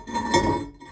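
A porcelain toilet tank lid set back onto the tank, giving a short ceramic clink and scrape that rings briefly up close before fading.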